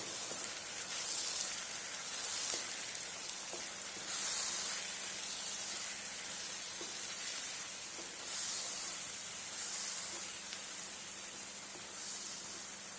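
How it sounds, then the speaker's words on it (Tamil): Tomato masala with chili powder, coriander powder and garam masala frying in a pan for pasta sauce, a soft, steady sizzle and hiss with gentle pulsing spurts, faint and without talk. "இது பச்சை வாசம் போக நல்லா வதங்கட்டும்."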